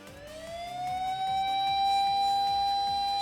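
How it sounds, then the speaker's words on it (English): A police siren swells steadily louder as it approaches in the visual novel Fruit of Grisaia, a sustained high wail over a rhythmic pulsing undertone, with no voices. "Apparently, they weren't too far off, as a siren approaches in no time."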